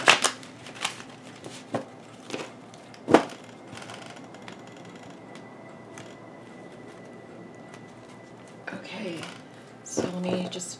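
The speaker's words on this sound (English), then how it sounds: "cut and shuffle here." Tarot cards being cut and shuffled by hand, a run of crisp riffling bursts and slaps spaced a second or so apart near the start, a quieter stretch, then another flurry of shuffling at the end.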